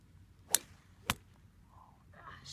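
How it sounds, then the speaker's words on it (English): Two quick sharp whooshes of a golf club practice swing cutting through the air about half a second apart, close and crisp over a quiet outdoor background. "Did you hear that whooshing sound?"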